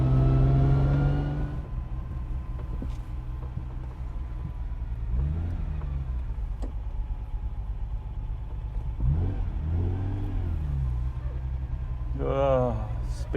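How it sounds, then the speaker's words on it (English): A Ferrari Dino 246GT engine drones steadily from inside the moving car, its pitch rising in a few swelling accelerations, with a louder rev near the end. Someone talks intermittently over the engine. "I'm driving a Ferrari Dino"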